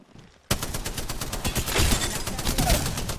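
Rapid automatic gunfire from Apex Legends bursts in abruptly and continues as a loud, dense stream of shots with a steady rhythm, with no voices over it.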